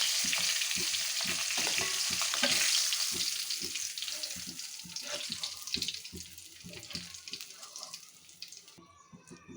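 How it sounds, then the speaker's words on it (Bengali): Fish heads frying in hot oil in a pan while being turned over, a steady close sizzle with repeated scraping clinks of a spatula and faint running water near the end. "এখন মাছটাকে উল্টিয়ে দিচ্ছি। উল্টিয়ে পাল্টে ভালো করে ভেজে নিতে হবে।"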